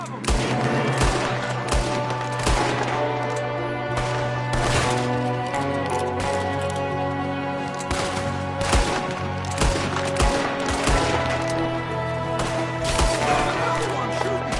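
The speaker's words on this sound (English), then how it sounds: "Another one shooting from the window." Repeated gunshots ring out in a Red Dead Redemption 2 shootout, loud cracks and booms at irregular intervals over a sustained musical score, with occasional voices in the mix.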